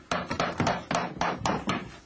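A hammer taps about seven times at an even, steady rhythm, each strike sharp, loud and close, with no voices.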